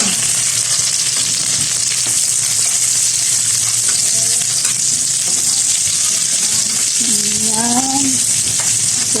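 Garlic and red onion sauté in hot oil for chicken liver adobo, giving a loud, constant, dense sizzle up close, with a brief faint voice-like tone near the end.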